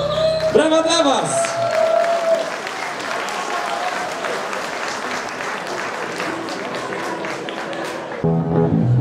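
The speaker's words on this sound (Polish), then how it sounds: "Brawa dla was!" An audience at a sea shanty concert bursts into sustained applause after a sung ending, a dense wash of clapping that holds steady for several seconds before a voice and music return.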